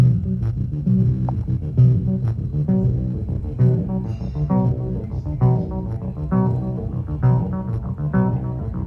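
A Roland T-8 plays a rhythmic synth sequence with delay, its steady repeating notes and echoes continuous and fairly loud throughout, with no talking over it.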